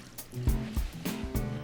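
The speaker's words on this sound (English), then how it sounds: "And then a little Pernod, which is fennel-flavored liqueur, about a tablespoon, just a splash." A small splash of Pernod, a fennel-flavored liqueur, is poured into a pan, giving brief liquid trickles and drips close by, alone with no talk.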